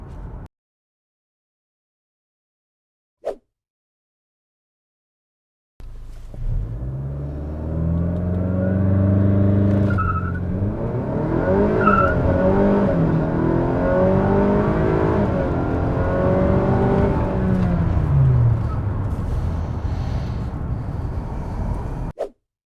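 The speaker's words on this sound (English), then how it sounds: "I'm getting my best launches in first gear" Honda Accord launching hard in first gear: after a brief click, the engine roars in loud and close, revving up through a long rising pull with a steady throaty drone and a slight whine near the end.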